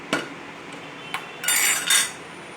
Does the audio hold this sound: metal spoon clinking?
yes